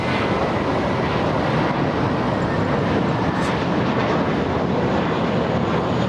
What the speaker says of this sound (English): 787 Dreamliner, the one that did the go-around, touching down right now.